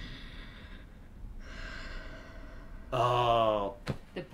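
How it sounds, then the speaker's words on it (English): Heavy mechanical respirator breathing in the style of Darth Vader from a Star Wars series: slow, rasping inhale and exhale cycles, loud and close, with a brief gasp-like burst near the end. "The breathing, Mm-hmm. like Vader"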